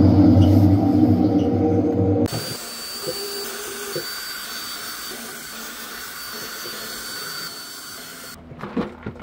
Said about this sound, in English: These are the most common point of failure for most cheap washing machines, and when they go, they sound like this.